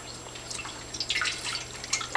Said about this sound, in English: Now we are going to fill the fountain up with water.